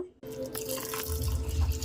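Water is poured steadily into a pan of golden-fried vermicelli to cook egg semiya, a continuous close splashing and gurgling stream that runs without a break after a brief silent start.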